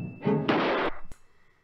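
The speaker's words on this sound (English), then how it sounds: "That again sounds like a gunshot being fired." A single sharp cartoon hammer blow to the head in a Tom and Jerry scene, a loud sudden crack-thud like a gunshot that cuts off into a short fading tail.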